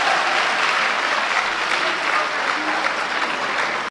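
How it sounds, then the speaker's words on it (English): A large crowd applauds Ibrahim Traore with loud, dense, continuous clapping that holds steady for several seconds before cutting off abruptly. "you saw how much people are clapping at Ibrahim Traore"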